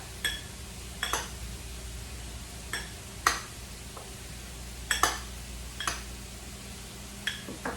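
Seasoned ingredients with pepper being mixed in a bowl, giving scattered light clinks and scrapes of a utensil against the dish at an irregular pace, close and fairly quiet, with no talking.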